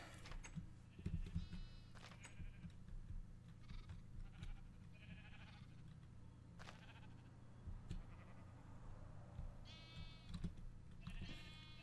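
Sheep in a Minecraft farm bleat again and again, with several overlapping calls scattered across a low, steady background hum and no talking.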